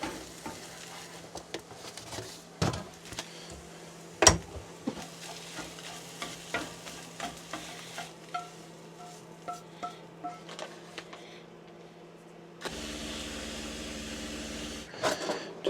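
Scrambled eggs cooking and being stirred in a pan inside a truck camper, with sizzling, scraping and sharp utensil clicks against the pan, plus a steady low hum and a louder rumbling stretch near the end.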